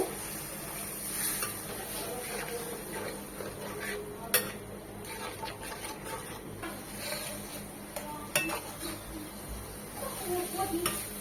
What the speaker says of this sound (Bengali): মশলাগুলো খুব ভালোভাবে এখন কষিয়ে নেবো